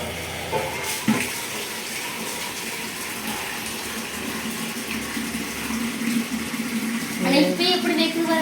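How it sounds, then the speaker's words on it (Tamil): Steady gush of running water pouring from a tap after a pump motor starts, growing a bit louder toward the end, with a brief clatter near the start. "ஜில்லுன்னு தண்ணி வரும்"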